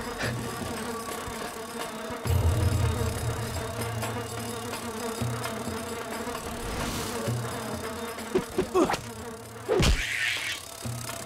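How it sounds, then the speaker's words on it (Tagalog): A big bee buzzes close by with a low droning hum that rises and falls as it moves around, over a busy background with some sharp knocks near the end. "Ang laki ng bubuyog!"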